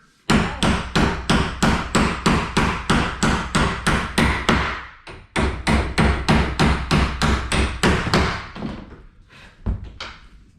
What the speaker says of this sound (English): Just sitting here waiting on a hammer.